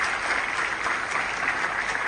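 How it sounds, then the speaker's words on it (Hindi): Enthusiastic audience clapping at a youth conclave felicitation event in Jammu and Kashmir, a steady, dense burst of many hands throughout the short stretch without any voices. "जोरदार तालियों के साथ"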